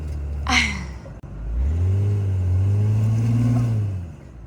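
A Ford F-150 truck on 35-inch tires drives a dirt trail at Monache Meadows, its engine rumbling close and loud after a brief sharp clatter, then revving up steadily and fading out near the end.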